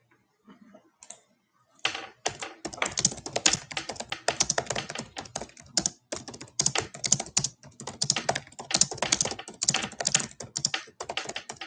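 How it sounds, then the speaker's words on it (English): Fingers type steadily on a computer keyboard, producing rapid, uneven bursts of close, crisp key clicks with brief pauses between flurries, continuing for several seconds with no talking. "I'm just typing"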